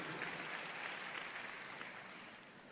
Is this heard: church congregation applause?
yes